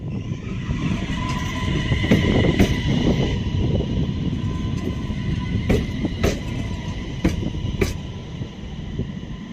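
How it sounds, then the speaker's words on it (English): A Bombardier Regina train rumbles into a station in Sweden, with steady mechanical hum, squealing wheels and sharp clanks and bangs near the end, loud and close. "Approaching right on time is our train on the inbound service from Luleå."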